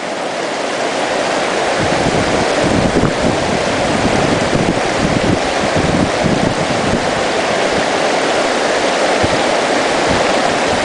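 Creek water rushes steadily through a gold sluice along Clear Creek, giving a loud, continuous outdoor wash that never lets up.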